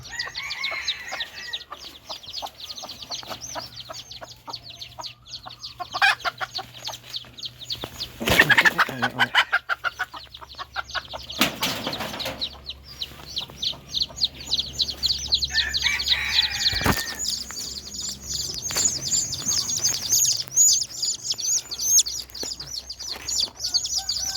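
A hen with her white-eared chicks clucks as the brood peeps and chirps in rapid, constant bursts nearby, the calls dense and overlapping, with a few louder rustling flurries of movement along the way.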